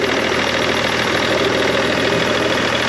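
BMW 530d E39 diesel engine idling with a slight irregular noise, a steady close rumble with faint knocking throughout and no talk.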